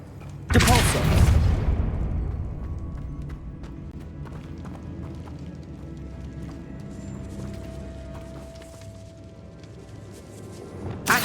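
A Depulso spell is cast in the video game Hogwarts Legacy: a loud, sharp magical blast that fades into a long, low ambient hum, with a brief burst returning at the very end.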